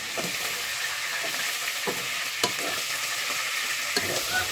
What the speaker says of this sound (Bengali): এখন ভেজে নিচ্ছি।